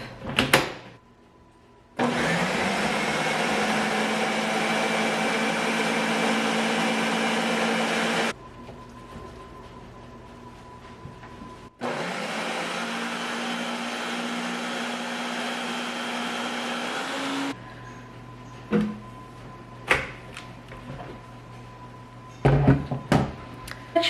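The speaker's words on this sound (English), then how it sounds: "Now we're just going to pop the lid on this guy and blend it up." A countertop blender runs on seitan ham ingredients, including liquid smoke, in two loud sustained bursts of roughly six seconds each, separated by a pause, with a steady whirring motor drone, then quieter kitchen clatter afterward.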